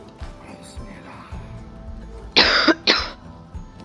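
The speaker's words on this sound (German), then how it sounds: "Mann, mein Husten nervt." A man coughs twice in quick succession, loud and close, over a quiet game background.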